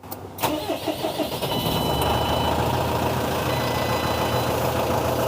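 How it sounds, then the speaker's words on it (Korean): A near-new 4-ton wing-body truck cranks and starts, then settles into a steady, close diesel idle with a thin, high air-system hiss running over the engine. "어 에어 소리 들리시나요?"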